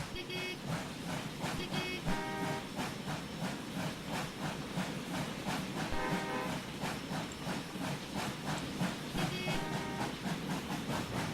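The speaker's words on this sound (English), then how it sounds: "let me back down into these freight cars" A train in a video game backs into freight cars, giving a steady rumbling, hissing rail noise with repeated clanking clicks throughout.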